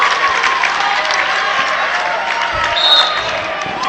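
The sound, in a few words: basketball fans clapping and cheering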